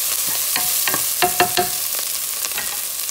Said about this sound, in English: You're stirring.